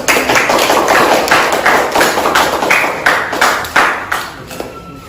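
A classroom group in an Indonesian mathematics lesson claps together after a presentation, a rhythmic run of sharp, even claps close by for about five seconds before fading slightly at the end.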